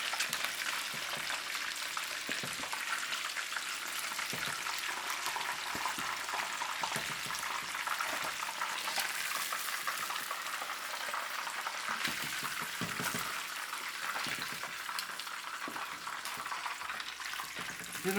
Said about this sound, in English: So we can scoop them out.